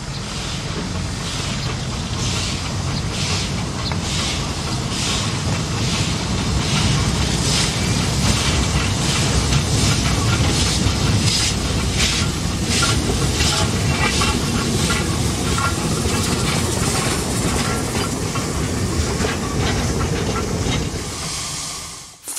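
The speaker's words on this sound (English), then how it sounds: "this GB Garrett is shunting in the harbour area before taking an early morning mix train" A South African GB Garratt steam locomotive shunts around the Mossel Bay harbour area, its loud, rhythmic chuffing and steady hiss of steam carrying on continuously at close range before cutting off abruptly, with no voices.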